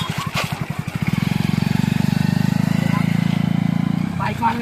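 A motorcycle engine chugs in uneven pulses, then settles into a steady, loud, close running drone for several seconds before cutting off, with people talking nearby.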